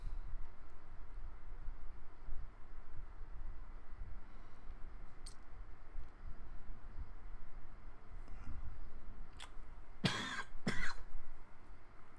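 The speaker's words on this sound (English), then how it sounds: "Sorry about the cough, I have a bit of flu." Two sharp, close coughs from a person with flu, in quick succession near the end of a quiet stretch with faint background hum.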